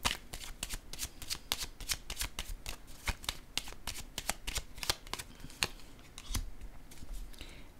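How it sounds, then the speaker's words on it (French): Tarot cards being handled and laid down on a surface, a quick series of crisp, close slaps and flicks in a fairly steady rhythm over quiet background. "Je vais déposer une carte"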